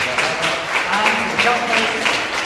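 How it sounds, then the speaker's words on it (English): A crowd applauds steadily, a dense patter of many hands clapping at close range, with voices mixed in beneath the clapping. "can I just have a round of applause for our assistant?"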